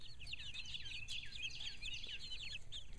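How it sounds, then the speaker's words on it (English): Young spring chicks about two months old, kept in a mobile chicken tractor run, chirp and cluck continuously in a steady, busy chorus close by, with no talking. "These are spring chicks. They're a couple of months old, so they're not fully grown chickens."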